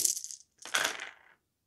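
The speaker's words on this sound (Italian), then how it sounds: "Quindi tira 8 dadi per tirare giù quelle cose lì." Eight dice rolled during a game of the Darkest Night board game: two quick bursts of bright clattering, one short and one longer, close up and alone.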